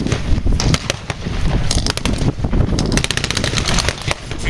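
Heavy gunfire from US infantry with bazookas and mortars at a Tank Fest 2022 tank battle reenactment, a dense, continuous outdoor crackle of shots and bursts with no talk.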